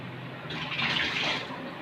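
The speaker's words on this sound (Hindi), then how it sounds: "पानी मुझे कम लग रहा है इसलिए मैं थोड़ा सा और डालूँगी इसको लिक्विड फॉर्म में करने के लिए।" Water poured into chickpea-flour, cornflour and refined-flour batter for chicken pakora, a steady soft splashing pour that swells in the middle and runs on without pause, close and alone.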